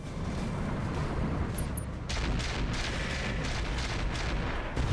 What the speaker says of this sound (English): That is mortars.